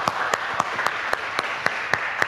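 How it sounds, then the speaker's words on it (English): Audience round of applause at a hacker camp lightning talks session, a steady wash of many hands clapping with regular sharper claps standing out, fairly close and continuous throughout. "You deserve a round of applause."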